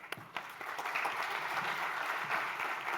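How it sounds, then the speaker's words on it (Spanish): Conference audience applauding after a speaker is introduced at a talk on cybersecurity and AI, a steady dense wash of clapping that starts after a couple of sharp early claps and holds at moderate loudness throughout. "sí, aplaudir es bueno."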